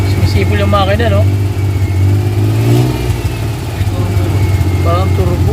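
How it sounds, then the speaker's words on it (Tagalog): A Suzuki F6A engine runs steadily with a thin, turbo-like whistle riding over its low, continuous drone, while someone talks over it at close range. "Sumisipol yung makina, no?"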